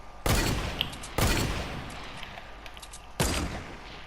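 Three loud, sharp gunshots with long decaying echoes, spaced about a second or two apart, in a sniper-mode shooter game match.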